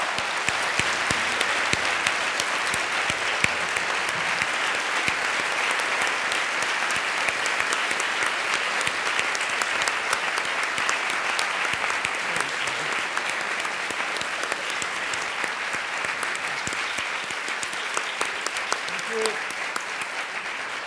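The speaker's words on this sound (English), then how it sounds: "Another round of applause thanking Professors Toni Morrison and Claudia Brodsky." Long, dense round of audience applause in a lecture hall after a talk by Toni Morrison and Claudia Brodsky, with many hands clapping steadily at even loudness for about twenty seconds.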